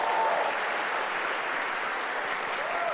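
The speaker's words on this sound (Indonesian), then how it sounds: "tepuk tangan buat teman saya itu" An audience claps for a friend, giving sustained, dense applause from a sizable crowd at an even level across the whole stretch, with a faint murmur underneath.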